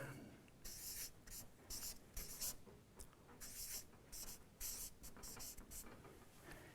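Pen on paper, handwriting in a run of short close scratchy strokes with brief pauses between words, quiet and alone.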